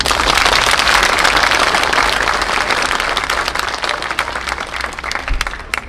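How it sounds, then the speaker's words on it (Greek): A crowd at a Greek charity event applauds loudly and steadily, dense clapping filling the hall for the whole stretch and tapering slightly toward the end. "Ένα χειροκρότημα για την αξία του Σεβασμίου Πάρκου."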